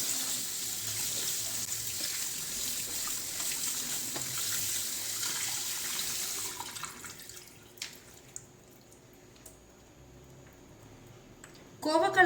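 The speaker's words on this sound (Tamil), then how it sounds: "தண்ணியை விட்டு அலசுங்க." Ivy gourd (kovakkai) is rinsed under running tap water in a kitchen, a steady splashing stream that later thins to faint trickles and drips before a brief clatter at the end.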